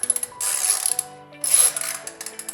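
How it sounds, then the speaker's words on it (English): A ratchet wrench clicks rapidly in short bursts on a Kawasaki KLX 110 dirt bike, close and crisp, two longer spinning runs separated by brief pauses and scattered single clicks. "You're just spinning the wrench."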